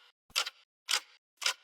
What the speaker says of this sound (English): It's not a future pop song without clock ticks.